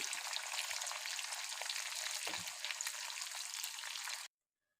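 Bitter gourd frying in oil gives a steady, dense sizzle that runs unbroken for about four seconds and then cuts off abruptly into silence.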